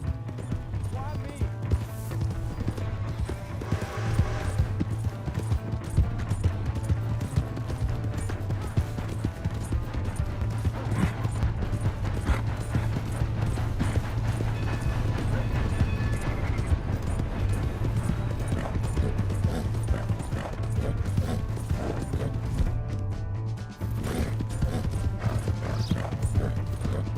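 Horse hooves clip-clop steadily in Red Dead Redemption 2, a continuous galloping rhythm kept up for the whole stretch under game music, with occasional whinnies and voices shouting over it.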